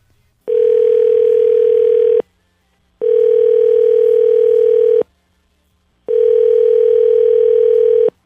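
A telephone line on a radio call-in segment gives three long, identical tone bursts, each about two seconds with short silent gaps between, loud, steady and alone.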